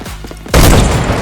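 A video game gunfight in a 1v1 match, a brief sharp burst of rapid gunfire erupting loudly after a short quieter lead-in, dense and close.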